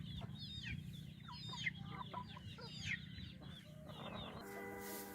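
Asil hens cluck close by in repeated short calls over a low background hum, and a brief sharper squawk sounds near the end.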